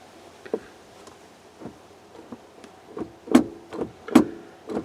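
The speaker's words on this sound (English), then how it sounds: "What you're hearing is that door kick back and forth." Rear HVAC blend door on a 2004 Chevrolet Tahoe with its actuator pulled out, kicking back and forth in a series of faint, irregular plasticky clicks and thumps that grow louder toward the end.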